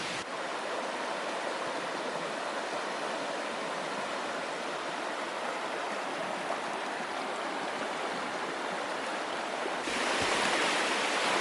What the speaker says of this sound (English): So I was just stopping to enjoy the river for a little bit here